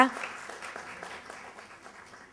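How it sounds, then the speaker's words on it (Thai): Audience applause at an HR seminar: a burst of clapping that starts strong and gradually thins and fades over a couple of seconds, heard alone. "ขอเสียงปรบมือด้วยค่ะ"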